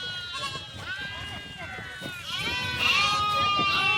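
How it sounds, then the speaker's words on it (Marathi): Young lambs bleat for their mothers in repeated wavering cries, several overlapping close by, louder toward the end, while a person talks over them. "हे बघा मेंढ्यांची छोटी छोटी पिल्लं कशी आहे, त्यांच्या आईसाठी ओरडतात"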